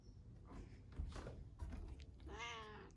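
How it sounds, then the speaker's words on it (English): A house cat gives one short meow near the end over quiet room noise, faint and close. "Also, my cat says bye as well."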